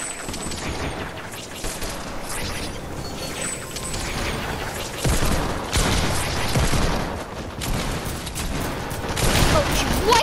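Dense gunfire from many players in a battle royale video game match: overlapping bursts, booms and rattling shots, loud and nearly continuous, with a voice faintly underneath.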